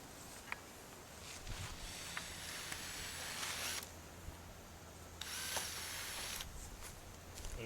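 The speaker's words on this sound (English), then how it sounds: "Basically just drill 2 holes in it, one through the thick part of the PVC and then one right above it." A drill bores holes through thick PVC pipe and a 2x4 in short bursts, with gritty whirring grinds separated by brief pauses and a few sharp clicks, heard fairly close.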